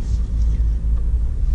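Fourth-generation 2018 Suzuki Jimny on the move, heard from inside the cabin as a steady low engine and road rumble.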